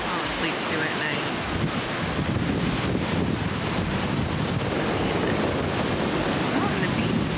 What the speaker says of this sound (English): ocean waves is like the best noise ever.